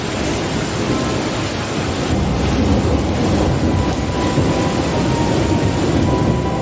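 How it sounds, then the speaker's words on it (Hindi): Strong storm with wind and rain roaring continuously and loudly, a dense, steady wash of rushing noise that swells slightly partway through, with no voices. "बहुत तेज तूफान आ रहा है"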